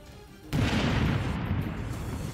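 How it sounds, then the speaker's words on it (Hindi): A landmine laid on a road in the Russia–Ukraine war is deliberately detonated, a sudden loud blast that breaks from quiet and rolls on as a sustained, heavy rumble and roar. "इस दौरान वहां तेज धमाका हुआ।"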